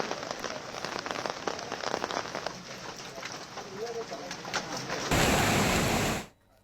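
Heavy monsoon rain in the Malnad hills of Hassan district, Karnataka, pours in a dense, steady hiss of drops on surfaces, close and continuous before ending abruptly.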